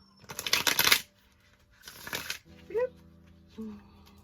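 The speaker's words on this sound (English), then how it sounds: "And one more shuffle." Tarot cards are shuffled in two quick riffling bursts, crisp and close, followed by a short spoken voice and a few small sounds.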